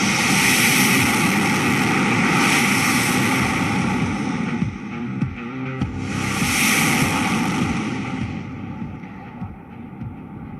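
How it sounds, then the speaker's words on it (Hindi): Jaguar strike jet making a touch-and-go at an Indian Air Force air show on an expressway, a loud continuous roaring engine rumble and whine that swells, dips around midway, then surges again before slowly fading. "You can see a Jaguar aircraft making an touch and go."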